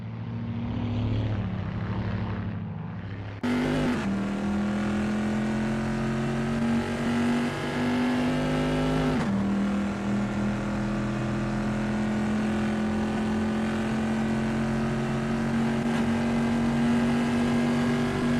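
A vintage Bizzarini race car in a video game, driving through the Ravazza section at Imola, with a steady droning engine note. It holds one pitch for a long stretch, broken by two sharp gear shifts.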